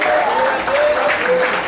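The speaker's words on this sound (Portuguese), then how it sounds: "As palmas vão vir nesse nome santo do Senhor" Congregation in a Pentecostal evangelical church clapping steadily together, a dense, even wash of applause filling the room while voices carry over it throughout.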